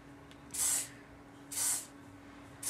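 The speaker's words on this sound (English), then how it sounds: "once I'm done with the bun, I like to spray the" Three short bursts of hairspray hiss close by, evenly spaced, with a faint steady hum in the quiet between them.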